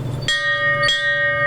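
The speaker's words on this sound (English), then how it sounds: "they ring the victory bell" A patient rings a hospital victory bell at a rehabilitation hospital to celebrate going home, two clear metallic strikes about half a second apart, each leaving a bright, sustained ringing tone.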